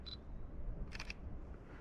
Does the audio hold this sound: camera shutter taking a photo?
yes